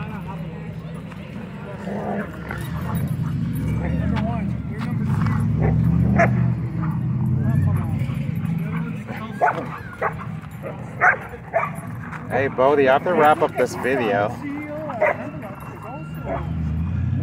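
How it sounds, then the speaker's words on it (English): A Pitbull boxer mix growls and whines during tug of war at a dog park, with continuous low rumbling growls that break into high yips and whimpers toward the end, while a person talks nearby. "And this dog does not want to give up. I believe it's a Pitbull boxer mix."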